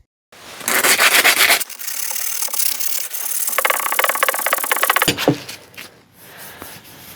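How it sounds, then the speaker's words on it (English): Steady abrasive rubbing of sandpaper across a Mini Cooper S R53 part, close and fairly loud, continuing for several seconds before easing into softer scraping. "We will have to sand with sandpaper now."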